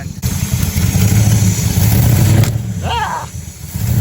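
A 1963 Chrysler 300J engine running rich on carburetors sends a steady, loud, close idling rumble with a low droning hum, which drops off briefly near the end while a voice sounds over it.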